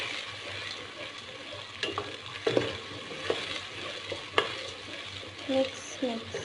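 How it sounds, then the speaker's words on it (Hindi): Tomatoes, green chili and ginger garlic paste sauté in a pan for Lahori chanay, a steady sizzle broken by scattered stirring scrapes and clinks of the spoon against the pan. "तो हम इसके अंदर टमाटर ऐड कर देते हैं और साथ ही इसके अंदर ग्रीन चिली और इसको सौते कर देते हैं"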